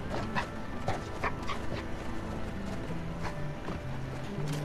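A dog in the Hob video game whimpers and gives soft, short barks, steady and fairly quiet, with faint footsteps and no talking.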